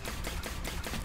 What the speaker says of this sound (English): Have you guys ever watched these cannons fire?